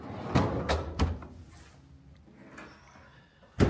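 A pull-out freezer drawer in a kitchen with a double door refrigerator, giving several sharp thumps and knocks close by, three in quick succession, then quieter rattles and a final loud bump, with no talking.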